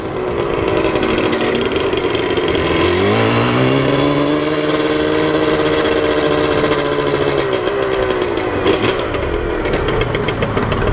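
Yamaha RD 350 two-stroke motorcycle with a Sarachu exhaust, loud and close, held at a steady buzzing idle before the revs climb and fall back, with raspy harmonics throughout.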